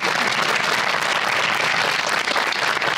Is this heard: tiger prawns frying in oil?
no